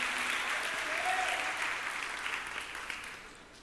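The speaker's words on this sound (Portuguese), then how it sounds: "Você pode aplaudir Jesus nessa noite?" A church congregation during an evening communion service claps together, a full sustained applause that slowly fades, with a faint voice briefly over it.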